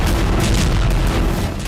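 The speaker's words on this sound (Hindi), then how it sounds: "पहला धमाका, दूसरा धमाका, तीसरा धमाका, चौथा धमाका," Explosions in Crimea, a dense, loud, sustained rumble of blasts filling the whole moment with no clear gaps.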